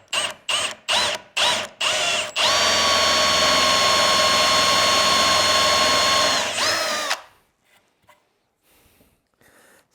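A power drill bores a hole in wood with a freshly sharpened bit for a belt display rack: a few short bursts of drilling, then a steady loud whine for several seconds, before it stops and faint handling noises follow.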